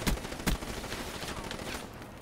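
An auto burst rifle fires in Black Ops 3 gun game mode, with two loud sharp shots up front followed by a steady stream of rapid gunfire and game noise.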